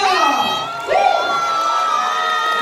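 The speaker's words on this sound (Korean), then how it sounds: "박수! 함성!" At a children's performance at a school recital, the audience lets out loud cheering and shrieks of excitement that swell and then hold steady, with children's voices and some clapping mixed in.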